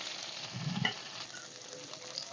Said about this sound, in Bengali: এই তেলের মধ্যে দিয়ে দিচ্ছি একটু তেজপাতা আর গোটা গরম মশলা